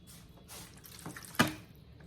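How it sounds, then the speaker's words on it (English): About half a cup of water is poured lightly over ribs with onion soup mix in a pan, a short close trickle and splash that peaks briefly near the end. "I'm gonna add about a ½ cup of water to this."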